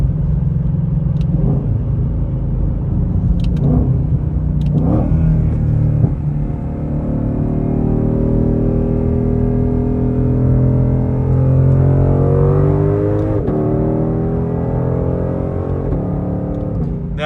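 A Ford Shelby GT500 V8 accelerates at just under half throttle, a deep, loud engine rumble heard from close by as the pitch climbs gradually through several gear changes, with a few faint clicks and no talking.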